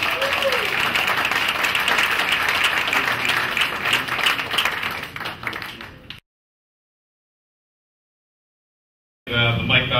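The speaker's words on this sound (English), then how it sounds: "And now let's have a big round of applause for" An audience applauds at a community award presentation held by a residents association, steady dense clapping for about six seconds, then a pause of silence before the clapping resumes loudly.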